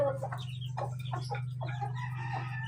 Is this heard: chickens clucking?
yes